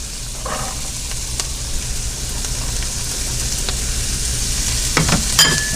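Garlic and celery being stirred in a pot of hot and sour egg drop soup, with a steady close sizzle and soft scraping strokes from the spoon, and a few sharper clinks toward the end.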